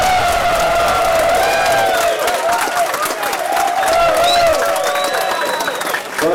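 A large audience at a political forum applauds and cheers loudly, with sustained clapping, whoops and excited shouting from many voices close by, filling the room throughout.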